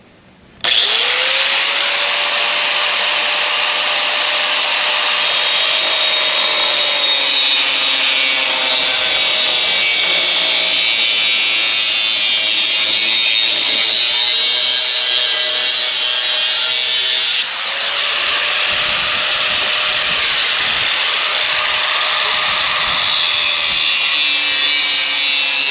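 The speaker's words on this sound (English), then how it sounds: "I'm going to cut with a 4 1/2 inch metal cutoff wheel with a grinder." An angle grinder with a 4 1/2 inch metal cutoff wheel cuts for a closet organizer build, a loud continuous high whine held close for most of the clip, with a brief dip and the pitch shifting as it bites.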